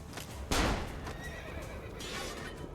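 A horse in the Assassin's Creed video game gives a loud, sharp neigh that trails off into whinnying, with hoof clip-clops and game ambience around it.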